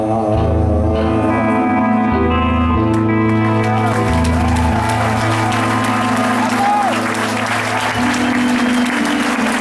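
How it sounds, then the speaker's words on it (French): Loud, sustained applause from an audience fills the clip, with music and some voices mixed in underneath. "On applaudit très très fort"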